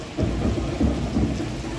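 Rain falls on a Rath Yatra procession in Vadia, Gujarat, with a deep, continuous rumble like thunder and the wash of rain running through the brief moment.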